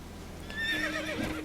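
Roach, Geralt's horse in The Witcher 3, gives a single high whinny that rises and wavers over faint ambient game sound, with a soft hoof thud near the end.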